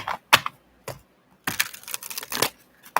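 Oracle cards from a modern witch deck on stiff, awkward card stock being shuffled, giving several separate bursts of crisp riffling and snapping, close and fairly loud with short pauses in between.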